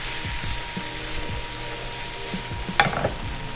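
Jalapenos sizzling in a hot pan for ratatouille, a steady close frying hiss with low knocks and stirring scrapes from tossing, plus a brief bright clink near the end.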